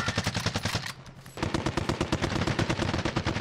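Rapid automatic gunfire in Call of Duty Warzone, dense bursts of shots crackling nearly nonstop with a brief pause before the firing resumes.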